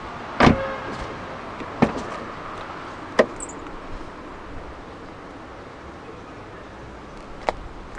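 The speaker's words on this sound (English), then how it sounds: "The windows dip down a little bit to clear the door frame." A 2015 BMW Z4 sDrive20i's frameless windows dip down as the door is opened, with a sharp click and a short motor whir followed by a few fainter clicks in a quiet setting.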